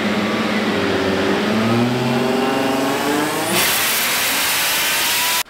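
A turbocharged car engine revs hard and climbs steadily in pitch, loud and close, then cuts abruptly into a harsh hiss before falling silent.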